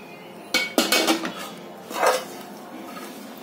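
A pan and metal utensils clatter and scrape in a series of loud, close knocks as roasted dried coconut for karanji filling is taken off the heat.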